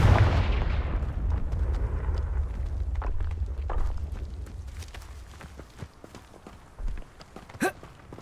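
A fiery Confringo spell explodes in the Hogwarts Legacy video game, a loud booming blast that rumbles and fades over several seconds, followed by light scattered impacts and a short crackle.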